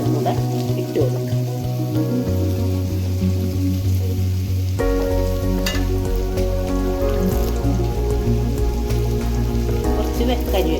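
Sliced onions and green chillies frying in coconut oil make a steady, rain-like crackling sizzle throughout, heard under continuous background music.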